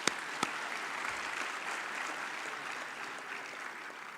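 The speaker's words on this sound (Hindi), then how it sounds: "एक बार सबके लिए तालियां बजाइए।" Audience clapping at a Hindi inauguration and award ceremony in an auditorium, a faint, steady spread of applause from many hands, with a couple of sharp isolated claps at the start.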